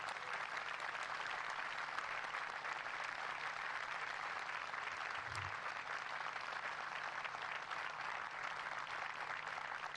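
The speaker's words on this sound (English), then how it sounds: "So how about a great round of applause for those on the field?" An audience at an Army Secretary welcoming ceremony applauds in a continuous, dense wash of clapping that stays loud and even throughout, with no talk over it.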